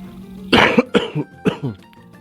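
A close, loud burst of three harsh coughs in quick succession, followed by quieter throat sounds.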